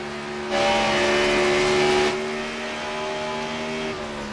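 A race car drives at speed on a track, its engine swelling into a loud, close roar before easing into a steady, slightly distant drone.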